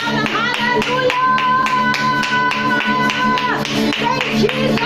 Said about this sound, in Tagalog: bigyan po natin ang ating pinakamalakas na palakpak ang ating Panginoon